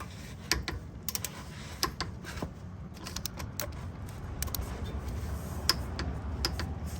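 Torque wrench tightening brake caliper bolts to 66 foot-pounds, heard as a series of sharp, close metallic ticks and clicks spread irregularly over a faint background hiss, with no talking.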